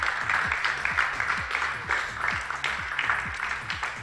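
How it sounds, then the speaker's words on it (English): Crowd applause at a Donington Park National race-series podium for the third-place finisher, steady clapping from many hands under a loud announcer-style voice and rhythmic music pulses. "give a big round of applause to Lewis Manley"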